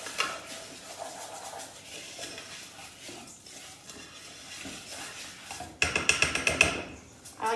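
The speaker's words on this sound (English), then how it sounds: "Then you're gonna stir. We're gonna make sure it's all coated in the oil." Rice is stirred in oil in a pan for garlic turmeric and carrot rice, with soft scraping and shuffling under a low sizzle, then a louder run of sharp utensil knocks against the pan near the end.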